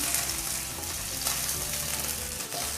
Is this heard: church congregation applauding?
no